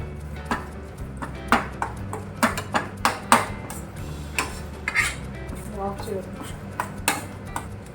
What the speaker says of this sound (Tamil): நல்லா மிக்ஸ் பண்ணி விட்டுருங்க